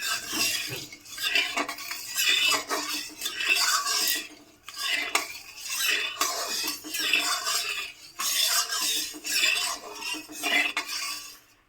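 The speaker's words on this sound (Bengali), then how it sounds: "তেলটা ভালো করে নেড়ে চেড়ে গরম করে নিলাম।" A spatula scrapes and clinks steadily against a kadai as refined white oil is stirred and heated for a duck egg curry, with continuous metallic scraping in close rhythmic bursts and no talking.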